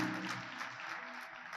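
A church congregation claps together in a faint, fairly distant burst of applause lasting under two seconds.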